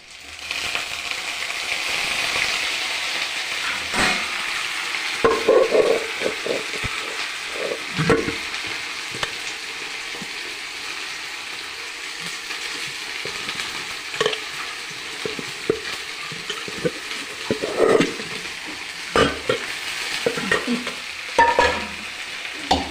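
Mustard seeds, cumin and chillies tempering in hot oil for a radish greens fry give a continuous sizzle, broken by frequent stirring clatter and small pops throughout.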